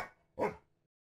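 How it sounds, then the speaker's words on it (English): A single short dog bark, fairly close and distinct, preceded by a fainter sound and followed by quiet. "to louder sounds like a dog barking"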